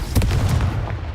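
The Confringo fire spell going off in Hogwarts Legacy, a loud, close, rapid cluster of crackling booming blasts over about a second, with no speech.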